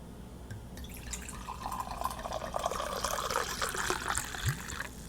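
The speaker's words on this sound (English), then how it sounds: "It's time for the pour." A drink being poured into a glass, a steady trickling, rising fill sound lasting several seconds, close and fairly quiet with no talk.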